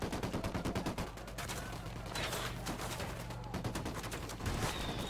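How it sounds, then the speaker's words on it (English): Gunfire in a Ghost Recon Wildlands firefight: dense rapid bursts from a minigun mixed with heavy mortar blasts, loud and continuous throughout, with booming low-end impacts. "There's a minigun somewhere. That's a mortar."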